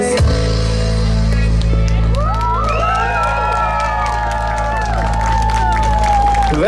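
Crowd at an outdoor Christmas concert in Žilina applauding, cheering and whooping for a children's band, loud and continuous, with shouted voices over a steady low hum.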